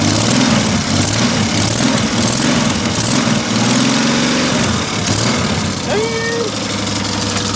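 A JZ engine runs roughly and loudly up close, its uneven idle lumpy and knocking, with a brief voice heard over it near the end.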